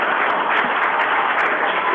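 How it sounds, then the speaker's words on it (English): Applause from the audience at a city planning and development council meeting, steady, fairly loud clapping from many hands filling the room without pause. "Can everybody please hold your applause?"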